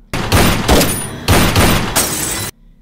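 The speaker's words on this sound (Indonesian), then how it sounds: "terdengar suara tembakan" Several loud, sharp blasts in quick succession, like gunfire, each ringing briefly before an abrupt stop into silence.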